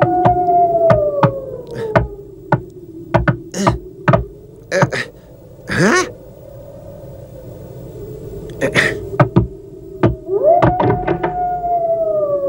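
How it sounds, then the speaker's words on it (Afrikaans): Loud knocking on a door, a series of sharp, hard thuds in irregular bursts, mixed with wavering howling and whistling tones that rise and fall in the background. "Klop nou so hard as wat jy kan."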